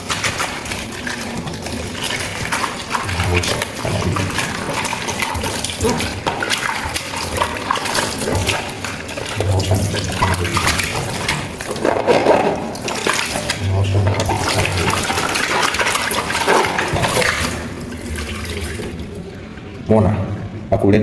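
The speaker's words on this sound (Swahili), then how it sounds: "Fungua maji yako bomba" Tap water runs steadily as a bowl is washed with dish soap, a continuous splashing flow under a person's ongoing talk.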